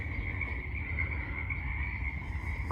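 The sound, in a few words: frog croaking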